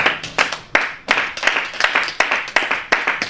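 Church congregation clapping for the Lord, with steady rhythmic handclaps, fairly loud and close, running through the whole stretch with a faint murmur of voices beneath.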